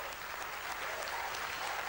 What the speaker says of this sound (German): Beifall im deutschen Raumfahrtkontrollzentrum Oberpfaffenhofen